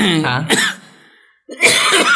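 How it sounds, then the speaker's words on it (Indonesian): A couple of sharp coughs burst out close to the microphone, followed by a short pause and a brief voiced sound. "ini sedikit batuk"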